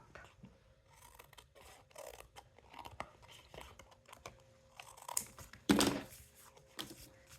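A blade drawn along a straight edge to slice the top off an old book, a series of quiet scraping and crunching strokes building to one louder, brief rasping cut near the end.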